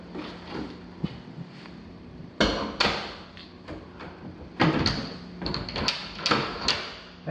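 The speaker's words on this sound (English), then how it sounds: "That door kind of sticks right there" A sticking guest bathroom door in a house is worked repeatedly, giving several loud thumps and knocks with rubbing scrapes between them, close by, with no talk.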